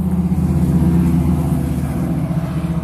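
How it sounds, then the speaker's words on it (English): Passing car engine humming and revving close by, a steady mid-range drone that swells slightly and then eases as the vehicle moves along, with no talk over it. "that's a nice car."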